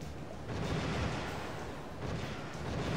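AGS guns firing in the video game Warship Gunner 2, a dense rumbling barrage of booms and bursts packed together for three seconds with no gaps, no voices over it.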